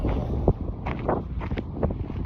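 Steady wind roars and buffets the microphone on a lake from a trolling fishing boat, a constant low rumble with gusty swells and occasional faint knocks, close and fairly loud with no talk.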